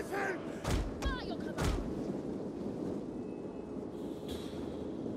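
Artillery in a Total War: Rome 2 Egyptian campaign battle fires two sharp, heavy booms in quick succession over a steady battlefield din, with voices calling out at the start.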